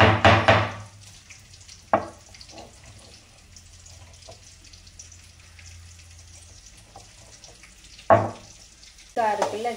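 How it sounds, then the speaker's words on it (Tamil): Crushed ginger sizzles in hot oil in a pan for a rice dish, with a soft continuous frying hiss and a few louder bursts and clatters as it is stirred nearby. "இஞ்சி இப்போ நச்சு இந்த இதில் இடித்து போட்டு இந்த ஆயிலில் போடணும்."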